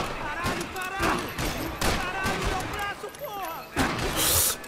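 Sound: gunfire in the video game Max Payne 3

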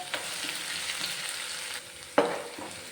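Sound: curry leaves frying in a pan

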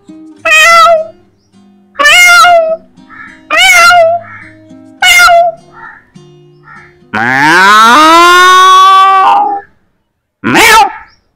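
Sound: man imitating a cat meowing

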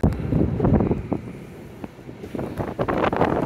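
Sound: wind on ship deck

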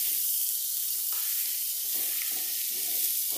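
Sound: onion, bacon and sausage sizzling while being stirred in pan

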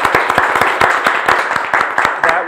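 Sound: audience applause for the Racine Symphony Orchestra

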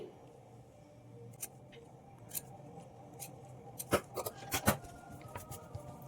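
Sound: scissors trimming extra cloth from a sleeve

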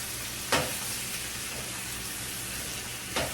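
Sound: stirring shrimp frying in a pan

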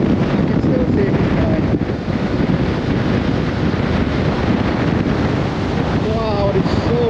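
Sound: strong wind

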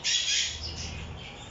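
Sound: young bird chicks squawking in aviary

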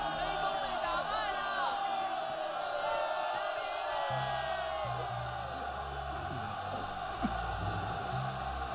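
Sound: animated ant army cheering that the war is won

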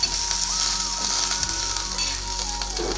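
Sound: frying spices and urad dal for pathrode

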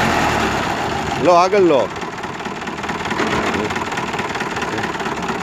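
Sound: Preet tractor engine started and running

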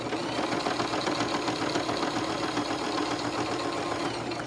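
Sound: sewing machine stitching fabric

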